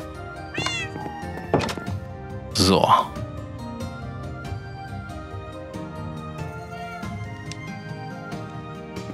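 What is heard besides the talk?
cats meowing in the video game Minecraft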